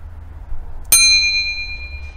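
One bright, clear bell-like ding with a ringing tone that slowly fades, against a quiet low hum.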